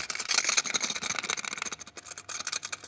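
A small electric slot car motor in a Lola buzzing with an irregular, rapid rattle from a fault, fairly faint and close, with no voices.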